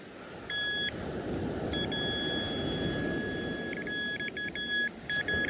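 A metal detector on a Bournemouth beach gives electronic beeping tones in short bursts and longer held notes over a loud, steady rumble of background noise.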